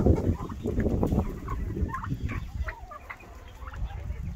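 Hens in a coop cluck and murmur close by, a busy overlapping chorus of short calls over soft rustling, with a turkey also kept nearby.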